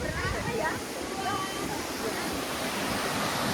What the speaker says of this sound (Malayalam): അടിപൊളി വെള്ളച്ചാട്ടം